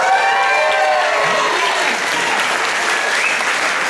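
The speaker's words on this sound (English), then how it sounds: "Give yourselves a hand." Loud, sustained applause from a concert audience at a bluegrass band's anniversary show at an arts center, dense clapping filling the hall without pause from start to finish.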